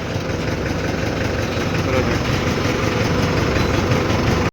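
A combine harvester engine runs steadily in a rice paddy during harvest, a loud, continuous low rumble with constant mechanical churn that holds even throughout before cutting off abruptly at the end.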